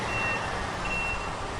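A truck in the video game Industry Giant 2 reversing, its backup beeper sounding as a thin steady tone over a broad hiss of game noise.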